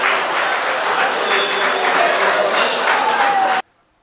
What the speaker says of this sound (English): General Salim Saleh received a thunderous applause for his continued fight against poverty